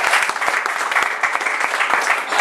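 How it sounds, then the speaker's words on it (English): A crowd claps steadily and briskly, a dense burst of applause close by with no voices over it. "He deserves a round of applause."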